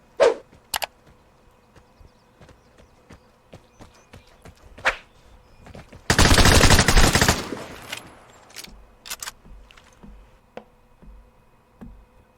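Gunfire in the video game Vigor: a dense, loud burst of shots around the middle, with scattered single shots and sharp clicks and thumps before and after, no talking.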